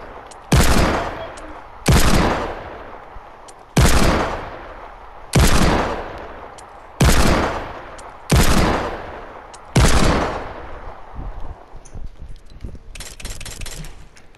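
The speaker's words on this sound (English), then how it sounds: "Raining hand cannons." Hand cannon gunfire in the video game Fortnite, seven loud heavy single shots spaced about a second and a half apart, each with a booming decaying tail, followed by quieter clattering effects.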